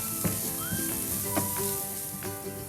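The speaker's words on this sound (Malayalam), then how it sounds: "തീ നന്നായിട്ട് കുറച്ച് വെച്ചിട്ട് ഈ മസാല നന്നായിട്ടൊന്ന് മൂപ്പിച്ചെടുക്കാം" Garam masala sizzles and fries in a pan over low heat for a Malabar layered chicken cake, a steady close crackle with a few soft stirring clicks and no talk.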